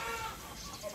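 A pure white Brahma hen in a small backyard flock gives a brief soft cluck, close and alone.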